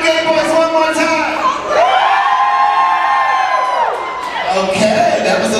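A packed gay nightclub crowd in Pomona screams and cheers loudly for several seconds, with high, sustained shrieks that swell, hold and then fade into scattered whoops.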